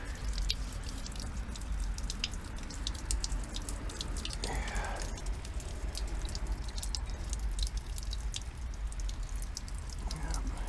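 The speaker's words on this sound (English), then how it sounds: "I just loosen that to let that drain off a bit" Water drains from loosened well head piping, a steady close trickle with rapid irregular drips and splashes running continuously throughout.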